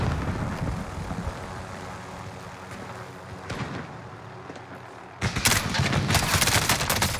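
In the video game Call of Duty Warzone, a helicopter's steady rotor drone runs under scattered gunshots, ending in a loud, dense burst of automatic fire and whirring, with no one speaking.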